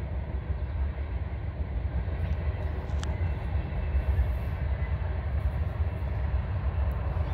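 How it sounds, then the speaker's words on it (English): A train rolls past outdoors in eastern Washington, a continuous low rumble of rail cars that holds steady throughout, fairly distant, with no talk. "Oh, we've got a train going by."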